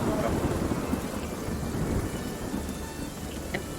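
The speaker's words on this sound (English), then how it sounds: "I don't want to do anything in the rain." Steady video-game rain hissing across surfaces with deep thunder rumbling underneath, a dense continuous storm bed, moderately loud with no clear break.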